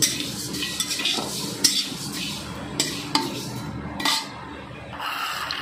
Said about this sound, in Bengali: এবারে আমি মেথি, কালো জিরে আর 5 ফোড়নটা দিয়ে দিলাম, দিয়ে একটু নেড়ে নিচ্ছি